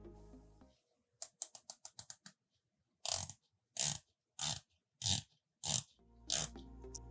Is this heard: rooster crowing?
no